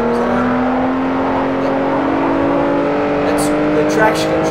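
A car in Forza Motorsport 4, powerful high-torque engine, holds a steady sustained drone with a slowly rising pitch as the wheels spin, while someone talks over it.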